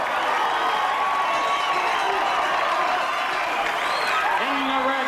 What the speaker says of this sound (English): The crowd anticipating a great fight now as Apollo is in the ring.